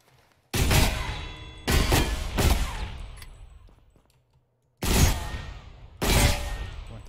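The Bodark SMG fires in Ghost Recon Phantoms in five short, loud bursts of rapid gunfire separated by brief pauses, each burst trailing off with a fading echo.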